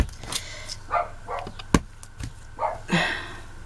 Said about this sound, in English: If that dog of ours is barking at me, I'll be upset with it.